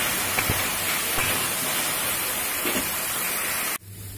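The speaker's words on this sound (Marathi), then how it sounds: "बटाटे टाकते, बटाटे चांगले परतून घ्यायचे" Potatoes sautéing in a pan for sabudana khichdi make a dense, continuous sizzle with soft crackles, heard close and fairly loud, before it cuts off abruptly near the end.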